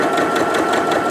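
A domestic sewing machine runs continuously, stitching fabric for a dry hot-water-bottle cover, with a fast, even mechanical whir heard close and loud throughout.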